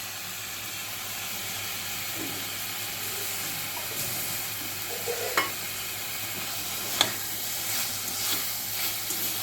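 Fish and vegetables are stirred with a spatula in spiced oil, a soft steady sizzle with a few faint scrapes and clinks, quiet and close, with no talk.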